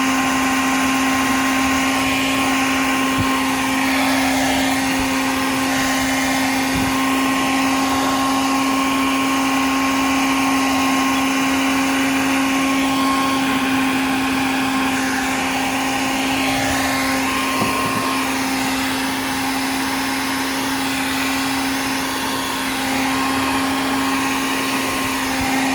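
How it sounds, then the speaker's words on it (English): A blow dryer runs steadily as it heats an Allison MD3060 transmission ECU, giving an even, loud whirring hum with a constant tone and faint incidental clicks, no talking. "run an industrial heat gun or just a blow dryer, and heat this up to where you can get it to work again"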